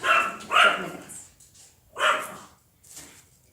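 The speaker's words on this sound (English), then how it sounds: "Sorry, it's my dogs." Several dogs bark excitedly at a delivery person outside, a cluster of barks followed by another burst and a fainter yip, heard from indoors.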